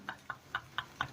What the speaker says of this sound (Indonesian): kok kita mendengar suara toke atau cicak tadi ya?